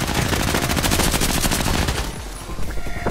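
Rapid automatic gunfire from a Bizon submachine gun in the game Contract Wars rattles in a continuous burst for about two seconds, loud and close, then cuts off into a short tail of echoing noise.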